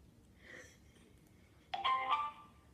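A phone ringtone sounding during a prank call, a short bright electronic chime burst after quiet faint background, no talk.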